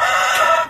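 A chicken in a free-range pen lets out a single short, loud, bright squawk or cluck, close by and alone.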